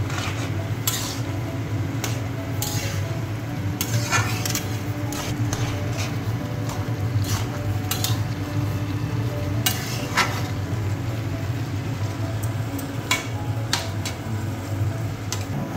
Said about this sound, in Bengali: নেড়ে মিলিয়ে নেব।